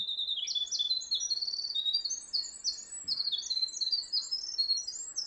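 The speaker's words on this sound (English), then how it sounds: "a diminutive little bird called the winter wren" A winter wren pours out a long, rapid, high-pitched warbling trill of tumbling notes, clear and fairly close against a quiet background.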